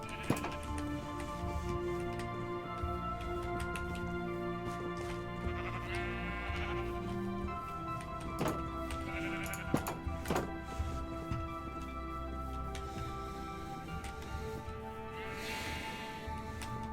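Minecraft sheep bleating amid the game's music, a few short bleats and thin clicks over a sustained tonal background, fairly quiet and spread across the span.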